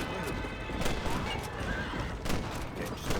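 Horses neigh and whinny in Red Dead Redemption, mixed with clip-clopping hooves, scattered gunfire and the noise of a busy scene, all at moderate loudness.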